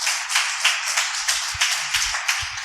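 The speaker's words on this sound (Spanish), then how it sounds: "Dale un fuerte aplauso al Señor." A church congregation claps in quick, rhythmic applause at a Sunday service, with the sound coming dense and near and no speech over it.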